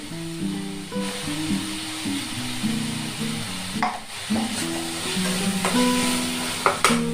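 Cauliflower and potato pieces being stirred in a pan, with a steady sizzle and scraping stirs throughout and a few louder clatters of the spoon near the end, alongside a tonal melody playing underneath.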